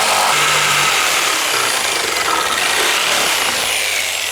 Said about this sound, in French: Et maintenant je coupe à la scie sauteuse.